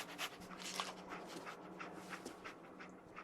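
Dogmeat, the dog companion in Fallout 4, pants quickly and steadily in a rhythmic series of breathy huffs close by.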